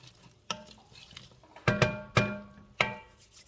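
Vegetables with garlic and onions sautéing in a pan, a soft sizzle under several loud, close stirring scrapes and knocks of a utensil against the pan, spaced irregularly.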